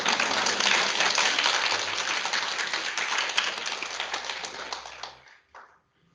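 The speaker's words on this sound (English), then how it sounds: "applause, some applause" Conference attendees at a climate change event give a dense, sustained round of applause that gradually thins and stops near the end.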